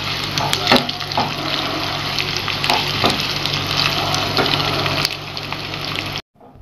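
Onions, crushed small shallots and tempering spices sizzle in hot oil in a pan for a Rayalaseema-style fenugreek dal, a continuous loud frying hiss with occasional stirring scrapes before it cuts off abruptly.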